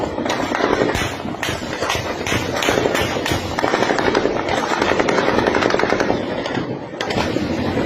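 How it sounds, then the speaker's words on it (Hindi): Gunfire from fighting involving the Afghan army crackles in rapid, continuous volleys, one shot after another, loud and dense throughout. "देखिए एक के बाद एक फायर हो रहा है।"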